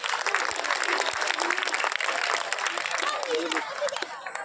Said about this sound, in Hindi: तो इस बात के लिए आप एक ताली ताली।